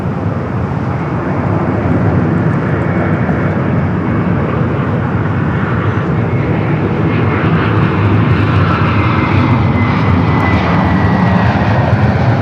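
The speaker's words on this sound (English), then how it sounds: "Coming in from JFK and an A321 and next to arrived runway 24 right." An Airbus A321 from JFK lands on runway 24 right at LAX, its jet engines a loud, continuous roar that builds slightly as it passes nearby, heard without talk.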